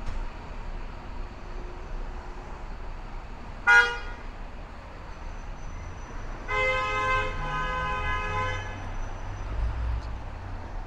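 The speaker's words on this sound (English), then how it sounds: "we are in Borough Park, so expect car horns." Car horns in Borough Park, Brooklyn street traffic: one short toot, then a longer blast with a second overlapping horn, over steady road rumble and passing vehicles.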